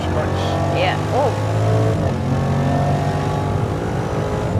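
A Jaguar F-Pace SVR accelerating on a Nürburgring hot lap, its engine droning steadily inside the cabin with rising whine tones and a brief chirp over the rumble.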